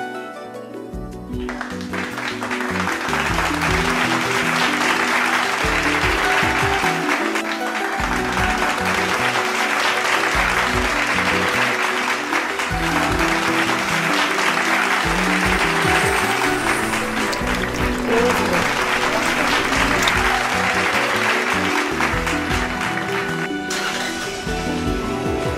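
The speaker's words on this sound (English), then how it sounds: "stopping whatever we are doing every 6 p.m. to clap for these frontline soldiers." Crowds clapping at 6 p.m. to honour frontline medical workers during the May 2020 news period, a continuous loud patter of hands that lasts throughout with rhythmic background music underneath.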